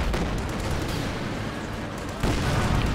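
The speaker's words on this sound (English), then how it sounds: "Shots there from the flak emplacement" Gunfire from a flak emplacement during a Company of Heroes 2 real-time strategy match, a steady dense crackle of distant shots and booms with a heavier burst near the end, mixed under background battle noise.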